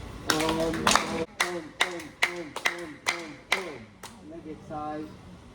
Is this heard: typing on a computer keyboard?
no